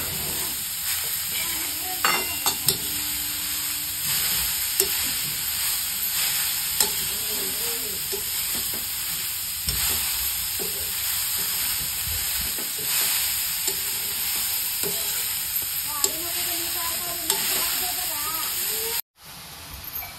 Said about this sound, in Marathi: चांगलं तुपामध्ये आपल्याला हलवून घ्यायचं आहे अगोदर।